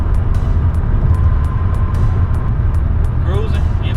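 A manual car cruising steadily in fifth gear, with a continuous low engine and road rumble throughout and a regular faint ticking above it.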